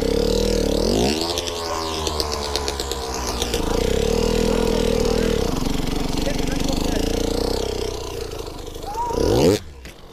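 A motorcycle engine revs and accelerates, climbing in pitch and holding steady, with a rougher surge near the end before a sharp cutoff; people talk over it.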